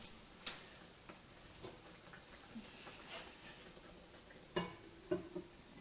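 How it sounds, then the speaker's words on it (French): Food simmering and softly sizzling in a covered pan on a stovetop, a faint steady crackle broken by a few sharper clinks and taps near the end. "cette préparation, vous allez les laisser mijoter le temps que vous fassiez votre riz ou votre boulgour"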